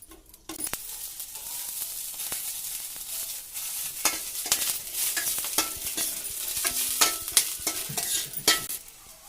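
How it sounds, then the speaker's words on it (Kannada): Sprouted horse gram frying in a little oil in a pan, a close crackling sizzle under repeated scraping stirs that grow busier and louder toward the end. "ಇವಾಗ ಇದನ್ನು ಸ್ವಲ್ಪ ಎಣ್ಣೆ ಬಿಟ್ಟು ಚೆನ್ನಾಗಿ ಫ್ರೈ ಮಾಡ್ಕೊಂಬರೋಣ ಈಗ ಚೆನ್ನಾಗಿ ಎಲ್ಲ ರೋಸ್ಟ್ ಮಾಡೋಣ"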